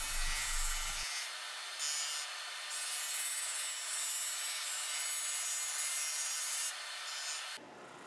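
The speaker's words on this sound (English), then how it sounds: "The multi-layer laminate boards are sanded in the same manner." A board sander works multi-layer laminate wood boards for herringbone and rope inlay strips, giving a steady, loud abrasive rub that runs almost the whole time with small dips and a change in tone near the end.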